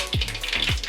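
Mustard seeds pop in hot sesame oil for a ginger pickle, giving a steady close-up sizzle with a few quick popping bursts, and no one speaking.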